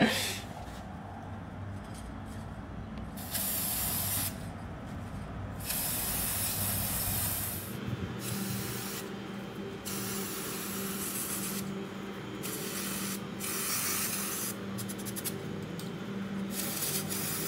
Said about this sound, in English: Wait, what spray are you using?